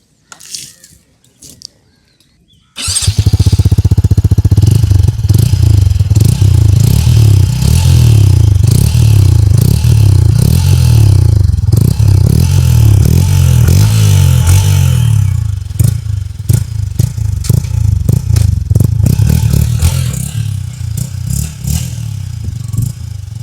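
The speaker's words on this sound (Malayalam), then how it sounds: "നമുക്കിന്ന് സ്റ്റാർട്ട് ചെയ്യാം അങ്ങനെ ഉണ്ട് എക്സോസ് നോട്ട് നോക്കാം" A Yamaha XSR 155 motorcycle engine starts after a few seconds of quiet, then idles with a loud, rough, slightly scattered exhaust note, blipping and revving before settling near the end.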